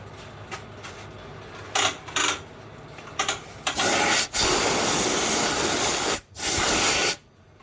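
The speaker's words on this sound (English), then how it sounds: "I kind of want to spray everything off with some air" Repeated bursts of compressed air hissing loudly as it blows off Hydro Gear transaxle parts from a Cub Cadet Z Force mower, short blasts at first, then longer sustained sprays separated by brief pauses.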